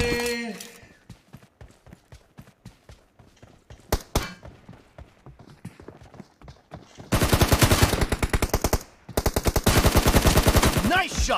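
Gunfire in a one-on-one TDM match of a mobile shooter game: spaced single shots give way to dense, loud bursts of automatic fire, with brief pauses between volleys and little talking.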